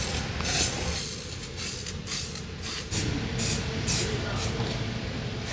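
Yamaha Warrior parts get sprayed in metallic Arctic gray paint: repeated hissing bursts from a spray gun, several short pulses, over a steady background rumble.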